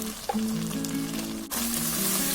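Tomato and ground spices such as coriander, chilli and cumin powder frying in a pan for chicken curry, a close, even sizzle with a soft clink early and a brief break before the hiss swells again.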